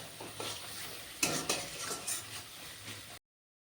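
A spice paste with turmeric, grated tomato, salt and sugar is sautéed in a pan, sizzling close by while a spoon stirs and scrapes in several bursts, then the sound cuts to silence; no speech.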